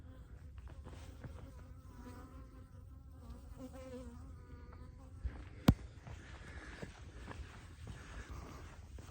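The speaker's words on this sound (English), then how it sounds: "Honeybees are pretty docile." Honeybees buzz close by outdoors, a soft wavering drone that rises and falls, with a single sharp click partway through.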